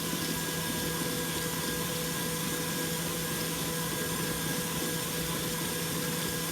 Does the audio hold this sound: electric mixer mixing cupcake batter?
yes